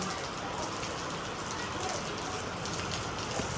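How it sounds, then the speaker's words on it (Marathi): Steady, dense patter of rain falling on surfaces nearby, a constant wash of drops throughout. "सगळा पाऊस आला"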